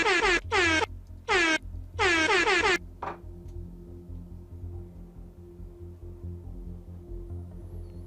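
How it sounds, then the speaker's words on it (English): Five rapid blasts of the MLG air horn sound effect in quick succession, loud and brassy, followed by a short burst and then quiet background. "That's the MLG horns."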